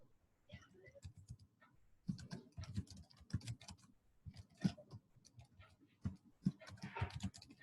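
Fingers tap out quick bursts on a computer keyboard, irregular clusters of soft clicks with short pauses between, close and fairly quiet, with no talking over them.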